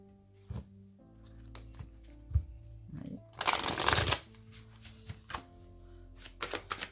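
Tarot cards are shuffled by hand in a quiet room, with scattered soft flicks and taps, then a dense riffling burst partway through, followed by more light card slaps.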